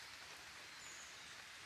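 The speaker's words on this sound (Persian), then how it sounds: "بارون شدید شده" Heavy rain pours down on a campsite, a steady dense hiss of drops on surfaces, faint and continuous with no other sounds.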